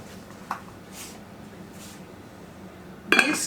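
A lid being lifted on a Pampered Chef baker used for roasting chicken: a soft clink near the start, then a louder, brighter clatter of the lid at the end, close by in a quiet kitchen.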